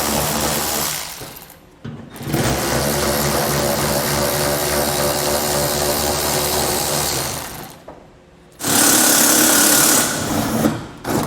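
A power socket driver backs 8mm-head screws out along the edge of a 2012 Ram 2500 truck bed during a B and W fifth wheel hitch installation, whirring loudly and steadily in long bursts with brief pauses between screws.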